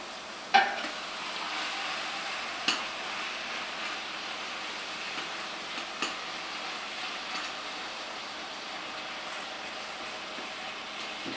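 Grass-fed beef and chopped vegetables cooking in a pot, a steady hiss and sizzle close by with a few isolated clanks of a utensil against the pot, no voices.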